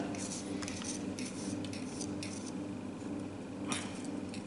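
A metal teaspoon scrapes garlic powder out of a container with light, quick scratching and clinking strokes in a kitchen while making kangaroo kebabs, faint and close with a steady background hum.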